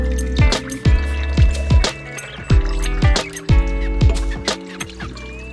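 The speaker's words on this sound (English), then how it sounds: "I am going to pour it inside slowly." Thick oxtail cooking liquid glugs and plops into an Instant Pot pressure cooker in repeated pulses, close and fairly loud, with a steady hum underneath.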